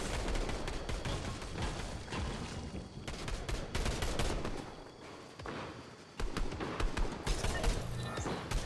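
Rapid bursts of video game gunfire rattle almost nonstop, dense automatic fire with a short lull before resuming loudly.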